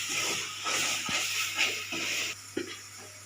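Ginger garlic paste sautéing in a pan for a Tamil chicken leg curry, a steady close sizzle with a few soft clinks and scrapes of stirring, no voices.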